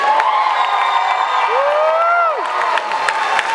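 A graduation commencement audience cheers and applauds, a dense wash of clapping and shouting with a whoop rising above it, carrying on continuously and loudly throughout.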